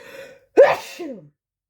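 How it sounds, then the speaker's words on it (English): One loud sneeze close by, a quick intake of breath snapping into a forceful burst that trails off into a short exhale. "I rarely sneeze in a reading."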